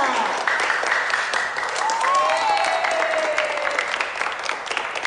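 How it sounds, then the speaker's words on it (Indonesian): An audience claps steadily and fairly loudly throughout, a continuous wash of hands with a voice briefly rising above it midway. "Mana tepuk tangannya?"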